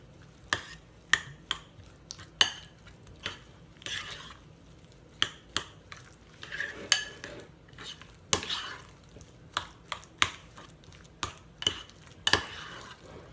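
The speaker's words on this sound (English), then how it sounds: "So I have 8 ounces of sour cream. Mix that in" A spoon scraping and clinking against a bowl as sour cream is stirred into a twice-baked potato filling, in a series of sharp, irregular taps and wet scrapes close by.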